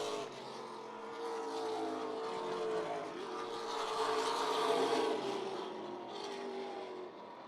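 Race cars on a dirt oval during a racing event, several engines roaring steadily together as the pack runs through the turns, loud and continuous with a swelling middle section.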